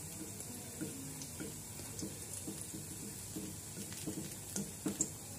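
Pumpkin flower pakoras deep-fry in hot oil with a steady, soft bubbling sizzle dotted with small crackles and pops, fairly quiet and continuous without talk.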